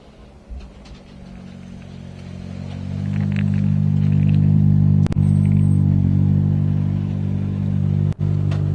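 Johan Bonato's rally car charges up a hill on a gravel-and-tarmac stage of the Rally di Roma Capitale, its engine rising to a loud, sustained rumbling roar as it nears, with a couple of sharp cracks and bangs.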